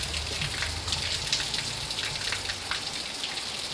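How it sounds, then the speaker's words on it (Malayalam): Heavy rain pours steadily and close, a dense continuous hiss with scattered drop patter, no voices. "ഉടുക്കത്തെ മഴ"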